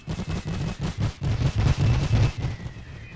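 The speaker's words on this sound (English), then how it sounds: "Firing his little machine gun" Machine gun fire in Napoleon Total War's Great War mod, steady repeated bursts of heavy low thumping shots in an even rhythm, loud and unbroken by talk, in a battle with a Whippet light tank and artillery.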